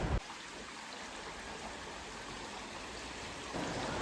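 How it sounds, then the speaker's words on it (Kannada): A small stream flowing beside a village house gives a steady, close hiss of rushing water, unbroken and even throughout, with no voices. "ನಮ್ಮ ಮನೆ ಹತ್ರ ಇರೋ ತೋಡಿಗೆ ಹೋಗಿ ಸ್ವಲ್ಪ ಆ ನೀರಿನ ಶಬ್ದಗಳನ್ನು ಕೇಳಿಕೊಂಡು"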